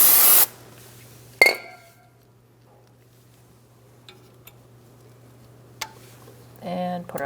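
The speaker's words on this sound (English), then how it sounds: "I'm going to clean off the area with some brake parts cleaner." Brake parts cleaner sprayed from an aerosol can onto the brake area of a Fiat 500: a loud, hissing burst at the start, a second short spray shortly after, then quiet with light clinks and a final spray near the end.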